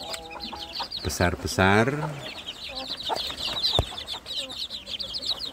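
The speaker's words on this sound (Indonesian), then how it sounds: "ini adalah anak ayam kampung saya yang sudah" Young free-range village chicks clucking and peeping nearby in an enclosure, with a few louder chirps and someone speaking briefly over them.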